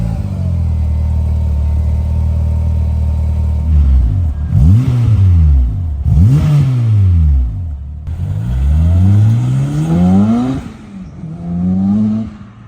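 A Honda S2000 sports car engine revs up and down repeatedly, each surge climbing in pitch then falling back, loud and close over a steady idle rumble.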